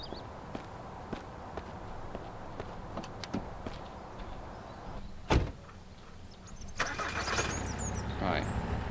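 Vehicle sounds in the survival game Mist Survival: footsteps and a car door thud, then an engine cranking and settling into a steady idle rumble, with a voice talking throughout.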